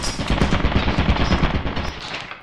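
A turret in a video game fires a rapid, loud burst of shots, each blast close and punchy in a continuous stream lasting a couple of seconds.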